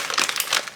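A plastic packaging bag crinkles as someone tries to open it, a quick cluster of close, crisp rustling bursts lasting under a second.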